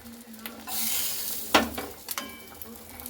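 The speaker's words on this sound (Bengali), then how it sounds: "হালকা করে এইভাবে একটু নাড়াচাড়া করে নিচ্ছি ডিমগুলোকে, ঝোলের মধ্যে একটু এইভাবে মানে ডুবিয়ে নেব" Fried fish eggs being stirred into gravy in a pan, a soft hiss of simmering broken by a sharp scrape of the spoon and a few clinks against the pan.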